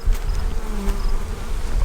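Honey bees buzz steadily inside an open hive where a new worker bee is hatching, a dense close hum with a few brief higher whines over a low rumble.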